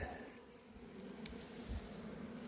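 Faint, steady buzzing of honeybees flying around their hive in early spring, a soft continuous hum with no voices.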